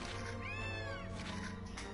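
Cat meowing in the video game Gravity Rush Remastered: a single drawn-out, rising and falling meow over a steady game background, clear and prominent.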